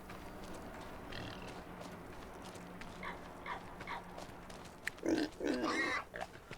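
Pigs grunting and oinking in a farming video game, a few short soft grunts early on followed by louder, closer squeals and oinks near the end.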